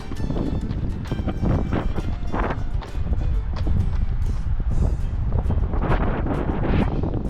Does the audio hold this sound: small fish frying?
no